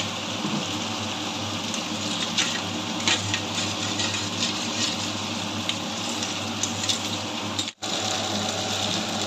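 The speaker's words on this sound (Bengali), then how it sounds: "এবার আমি টক দইটা একটু জল দিয়ে দেবো, অল্প জল দেবো" Water poured into a pan of fried spices and sour yogurt while cooking doi katla, a steady rushing splash that runs almost unbroken, briefly cutting out near the end.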